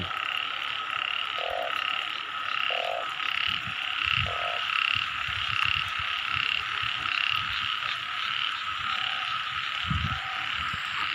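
A dense chorus of frogs croaks steadily through falling rain at night, with a constant hiss of rain and a few louder, closer croaks popping out now and then. No one speaks.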